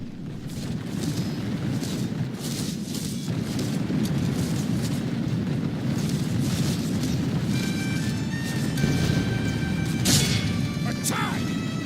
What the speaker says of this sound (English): They receive musket shot and cannon shot in the ranks.